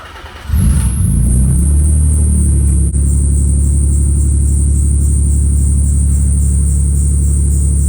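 Nissan R33 GTR engine cranks and fires at about half a second, then settles into a loud, steady idle with a deep rumble and a high whine, running alone to the end.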